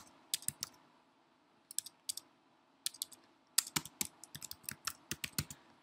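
Someone types on a computer keyboard while editing a website, tapping crisp, close keys in scattered short runs that speed into a quicker flurry toward the end.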